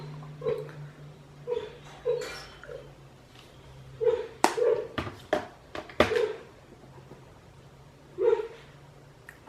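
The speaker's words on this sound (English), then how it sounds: "My dog's dreaming." A sleeping, dreaming dog lets out a series of soft muffled woofs and whimpers at irregular intervals, with a few sharper knocks mixed in, fairly close and quiet.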